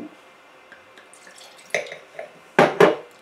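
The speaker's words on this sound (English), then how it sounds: "Give it a little rinse." Water splashes and trickles in a wine glass as it gets a quick rinse, faint drips and glassy clinks building to two louder, close splashy pours near the end.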